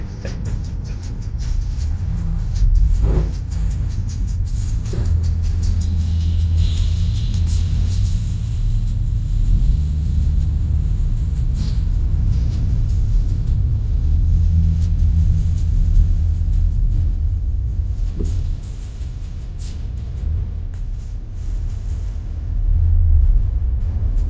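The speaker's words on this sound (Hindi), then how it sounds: "यहाँ पे काफ़ी बारिश हो रही है नोएडा में" Heavy rain drums on a Tata Harrier EV driving through Noida, a steady low rumble of water and road noise filling the cabin throughout, loud and continuous with no speech.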